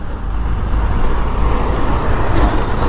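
Inside a crowded free city bus, a steady loud engine rumble and road roar fill the cabin, with a constant low drone and no clear voices.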